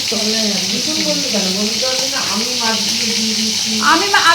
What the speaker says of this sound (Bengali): এখানে ভাজা হচ্ছে বাটা আমার মাছগুলো ভাজা হয়ে গেছে